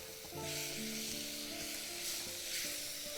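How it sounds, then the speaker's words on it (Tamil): Rice for jackfruit seed biryani gets mixed gently in a sizzling pan, a continuous quiet hiss of frying with faint stirring, accompanied by low sustained musical tones in the background. "பொறுமையாக இதை மிக்ஸ் பண்ணுங்கள்"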